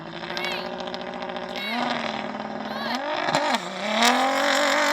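Toyota GR Hilux Dakar rally car with a 6-speed sequential gearbox pulls hard in a drag race, its engine note climbing and dropping in steps through several gear changes, loud and close, with voices talking over it.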